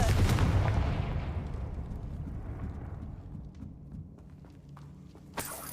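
A Confringo fire spell goes off in the video game Hogwarts Legacy, a loud crackling blast that rumbles and slowly fades over several seconds, with a sharp smaller burst near the end.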